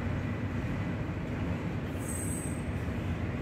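A CSX I141 freight train passing, a steady rolling rumble of rail cars with a brief high wheel squeal partway through, continuous and fairly close, no voices.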